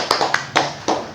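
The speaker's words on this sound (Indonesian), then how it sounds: "Tepuk tangan" A handful of separate, fairly close hand claps in a talk-show studio, about four sharp slaps spaced irregularly with quiet between them.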